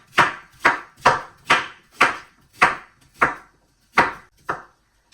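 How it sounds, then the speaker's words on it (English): A knife chops pumpkin and plantain into cubes on a board: nine crisp, evenly spaced thuds, close and distinct, with no talking. "So cut them into cubes."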